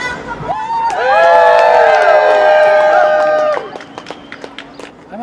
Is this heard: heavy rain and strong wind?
no